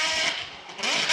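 Toyota GR86 drift cars in a Formula Drift tandem battle give a brief, high rasping engine roar with tire noise, loud and close, swelling near the end.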